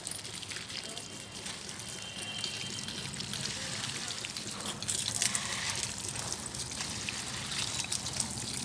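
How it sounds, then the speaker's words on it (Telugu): Water pours and trickles steadily at close range into a potted rose plant, a soft continuous splashing with faint background noise. "ఇదండి వాటరింగ్ చేశాను, చూస్తున్నారు కదా"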